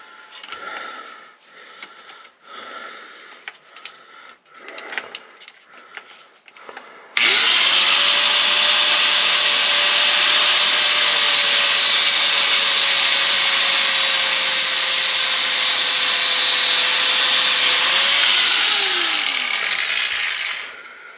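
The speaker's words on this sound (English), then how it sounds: "Alright, where's that cutoff wheel? We'll just cut it." An angled cutoff wheel bites into a stuck bolt on a car's brake work, a loud, steady high-pitched grinding whine that runs for about fourteen seconds after quieter handling noises, then winds down at the end.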